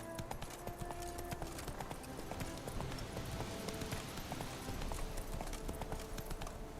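Roach, a horse in The Witcher 3, gallops with a steady rapid clip-clop of hooves, close and continuous throughout, with faint ambient sound underneath.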